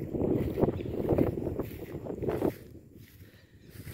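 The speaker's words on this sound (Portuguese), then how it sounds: "Mas hoje está mais normal, mas está ventando" Strong wind gusting outdoors in a hot summer town in Sergipe, Brazil, a rough rushing roar buffeting the microphone for a couple of seconds before dropping to a quieter hiss.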